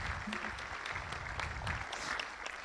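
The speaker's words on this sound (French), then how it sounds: "on peut applaudir Sylvie Noni" An audience at a round-table conference on pesticides claps steadily, a dense, even patter of applause filling the hall.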